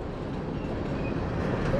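A 100-car corn and grain freight train rolls steadily past a gas station, a continuous loud low rumble of wheels and cars with no break or fade.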